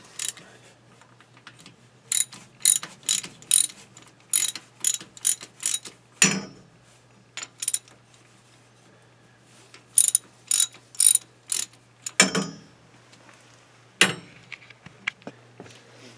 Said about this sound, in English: try loosening up all those bolts before I cut anything